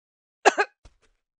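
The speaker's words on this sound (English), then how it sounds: "a sudden coughing fit, he fell to the floor" A short double cough in the video game Virche Evermore, two quick close harsh bursts followed by a faint trailing sound, otherwise silent.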